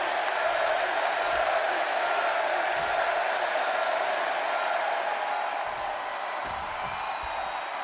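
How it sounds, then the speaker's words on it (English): A large crowd in a WWE 2K26 video game wrestling match in Chicago roars and cheers in a continuous wash of noise, fairly loud and steady throughout, with a few low thumps underneath. "And just listen to this crowd here in Chicago."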